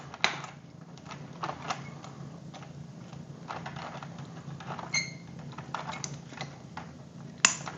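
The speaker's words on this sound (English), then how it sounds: "Twist them with their linesmans" Linesman pliers twist electrical wires together, producing a series of faint, irregular clicks, scrapes and metallic ticks at close range, with a sharper snap near the end and no voices.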